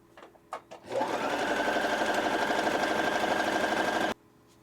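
Sewing machine running a straight stitch, a few short clicks first, then about three seconds of steady fast mechanical whirring that stops abruptly.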